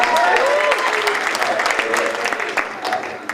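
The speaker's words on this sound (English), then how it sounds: "Clap here from the Midwest." Wedding reception guests clap together in a steady round of applause that thins out slightly toward the end, with voices mixed in.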